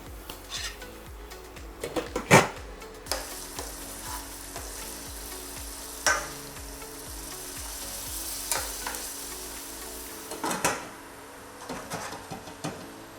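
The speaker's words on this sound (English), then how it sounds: "After you've cooked your onions for a couple of minutes, you can add extra butter just to really melt it well." Onions and butter sizzle steadily in a pan, a close, continuous frying hiss broken by a few sharp clinks and scrapes of a utensil against the cookware.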